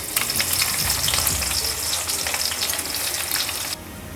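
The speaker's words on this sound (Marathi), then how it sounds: "कांदा तळून घेऊया." Sliced onion frying in hot oil for prawn biryani barista makes a loud, dense, continuous sizzle close up with light stirring, the crackle dropping away abruptly near the end.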